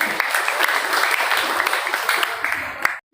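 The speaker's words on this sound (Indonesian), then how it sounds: "Tepuk tangan untuk kalian semua." Festival participants at a music-competition event in Manado get a round of applause, a loud continuous clatter of many hands with occasional sharper claps and faint voices, cutting off abruptly near the end.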